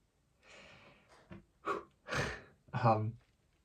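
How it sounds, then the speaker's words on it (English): A slightly congested person breathes heavily near the microphone, several loud, rough inhalations and exhalations spaced about half a second apart in an otherwise quiet room. "Sorry if I'm breathing really heavily."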